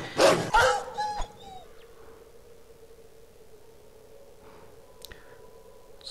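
A rabid dog in the survival game Live Or Die Survival lets out a short burst of loud, sharp barks and yelps at the start, then falls away to a low, steady background hum.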